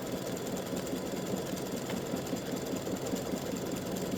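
A home embroidery machine satin-stitches a bat design for freestanding-lace earrings, giving a steady, rapid mechanical whir and chatter that runs continuously without pause.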